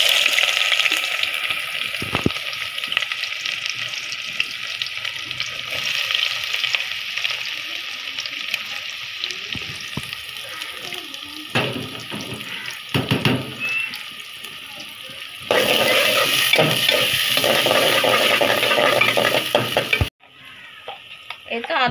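Onion goes into a hot pan in a home kitchen and fries with a bright, continuous sizzle. Stirring and water noises break in, and the sizzle jumps louder partway through before stopping abruptly.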